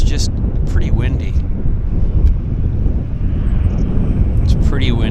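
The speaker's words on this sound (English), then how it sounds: "ZipAir is taxiing with purpose to start their journey to Narita Airport, Japan" A Zipair Boeing 787's engines drone steadily at a distance as it taxis at Vancouver airport, buried under heavy wind buffeting the microphone, with a few brief bird chirps.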